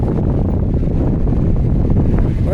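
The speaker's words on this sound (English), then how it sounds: "it's windy down here." Strong wind buffets the microphone in a constant low roar, loud and unbroken throughout.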